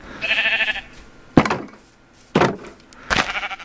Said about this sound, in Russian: Вот, овцы, ну, насколько они могут быть овцами